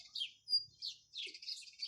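Sparrows chirp and sing in quick, bright bursts of twittering that come close and fairly loud. Short pauses separate the bursts, and no one talks.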